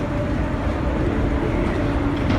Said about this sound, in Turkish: Frankfurt'ta pilotlar arasında metroyla geçiş yapıyormuşuz.